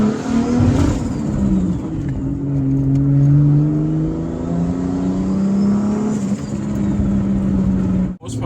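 A Lexus IS300 with a swapped 2JZ engine revs up and down, its engine note rising and falling loudly and close for several seconds, with a brief dip near the end.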